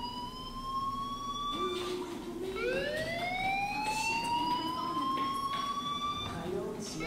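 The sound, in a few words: fire alarm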